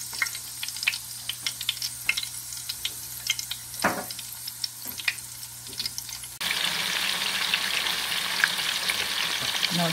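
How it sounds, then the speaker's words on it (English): Oxtail pieces dropped into hot oil, first scattered crackles and pops, then a sudden shift to a loud, dense, continuous sizzle as the meat starts frying up close. "Now this oil is hot enough to start frying the oxtail."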